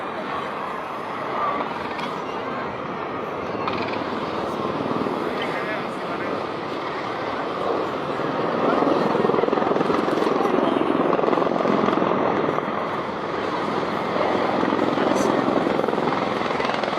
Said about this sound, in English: The AH-64 Apache carves through the skyline in an aggressive banking turn